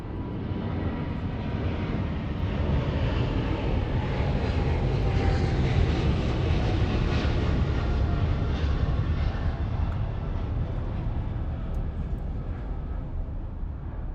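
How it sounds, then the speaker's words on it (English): A China Airlines Boeing 777 freighter at Los Angeles International Airport, its jet engines a loud, continuous broadband roar that swells and holds steady for the whole stretch, with no talk over it. "Another China Airlines 777 freighter."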